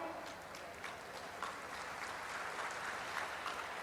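An audience at a formal event with President Kovind applauds, a dense, continuous clapping that holds steady throughout.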